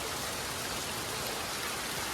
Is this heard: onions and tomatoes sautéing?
no